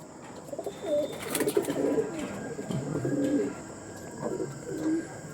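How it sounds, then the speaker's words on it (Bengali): Pigeons kept for breeding and racing coo repeatedly at close range in a series of low, soft, rolling calls, with faint chirps in the background. "একটা সিজন খেলা পায়রা আছে"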